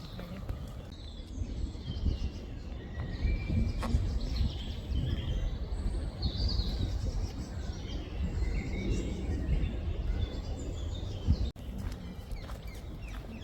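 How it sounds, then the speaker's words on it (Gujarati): Sparrows, parrots and other birds chirp and call intermittently over a steady outdoor background hum in a Japanese garden in London's Holland Park, mostly higher-pitched scattered tweets rather than one repeated song. "અમુક અલગ અલગ પ્રકારના પક્ષી બોલે છે"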